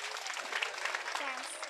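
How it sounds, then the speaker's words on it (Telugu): A church congregation claps hands together, a dense steady patter of many palms under a faint voice, moderately distant and fairly soft. "చప్పట్లు కొట్టండి."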